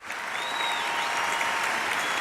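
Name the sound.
applause sound effect played from M-Game Solo sample fader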